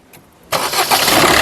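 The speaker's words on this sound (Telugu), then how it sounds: "సింగిల్ సెల్ఫ్లో కార్ స్టార్ట్ అవుతుంది" A 2017 Maruti Suzuki Ciaz Zeta with about 74,000 km starts on a single crank after a brief moment of quiet, the engine catching loudly and settling into a close, steady idle.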